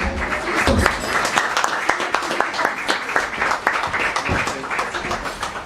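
An audience at a Cape Verdean authors' society rights-distribution ceremony claps for the honorees, a steady ripple of applause with a few sharp individual claps standing out, moderately loud and continuous throughout.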